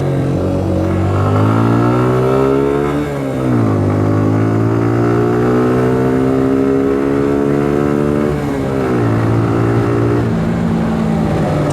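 A Suzuki Gixxer SF motorcycle engine accelerates up through the gears, loud and close, its steady drone rising in pitch, dropping at each shift and climbing again.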